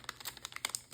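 Crinkly rustling and light tearing of packaging as a Google Pixel 8 Pro case is unboxed, a quick run of close, soft crackles and snaps.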